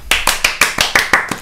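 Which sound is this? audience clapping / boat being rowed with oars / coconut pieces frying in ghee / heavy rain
audience clapping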